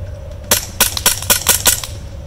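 An ICS BLE XPD airsoft pistol drawn and fired at a target at short range: six sharp snapping shots in quick, slightly uneven succession over about a second and a half, with no talk.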